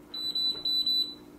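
A Crane smartAIR purifier, model EE-5066, gives a short series of shrill electronic beeps as its child lock is engaged, three or four close, clipped tones over a faint hum.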